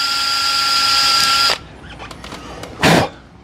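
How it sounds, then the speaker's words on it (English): A steady, whining drill bores small holes in a vintage Honda Goldwing barn find for about a second and a half, then stops. Faint clatter follows, and another short burst of drilling comes near the end. "Drilling a couple little holes in here,"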